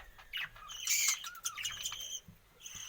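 Pet birds in an aviary chirp and squawk together in a busy, overlapping chorus of bright calls, fairly close and loud, with no voices.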